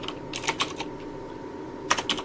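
Rapid bursts of keystrokes as code is typed on a computer keyboard for a Firebase and AngularJS chat app, close and clear, with irregular clusters of clicks and a short pause in the middle, no voices.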